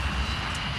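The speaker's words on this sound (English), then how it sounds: "The 737 finally rolls down the runway." Steady, loud roar of a Boeing 737 jet engine as the airliner rolls down the runway for takeoff, a brief continuous rumble with no talk.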